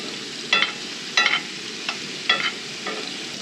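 Onions sizzle in a skillet over a camp stove, a steady close frying hiss with a few brief bursts of scraping and stirring.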